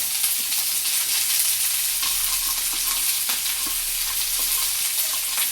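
Vegetables for soybean chilli fry in a pan with a loud, continuous hiss and crackle, broken by occasional soft scrapes of a spoon, steady and close throughout.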